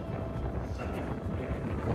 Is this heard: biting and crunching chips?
no